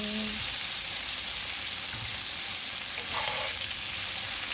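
Cauliflower fries in butter in a pan, a steady, close, dense sizzle and crackle that holds at even loudness throughout.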